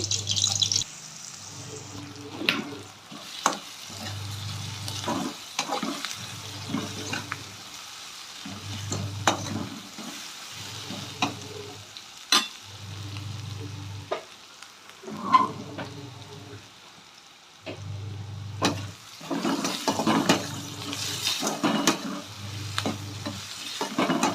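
Chopped onions fry in hot oil in a pan while a chicken gravy is cooked. A steady sizzle is broken by regular scraping stirs and faint drips, with no talk.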